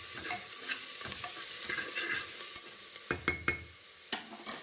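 Mushrooms frying in a pan for a vegetable mix are stirred, giving a steady broad sizzle with a handful of sharp spoon scrapes and clicks clustered near the end, close and without voices.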